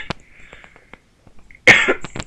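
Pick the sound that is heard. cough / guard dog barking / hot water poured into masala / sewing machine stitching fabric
cough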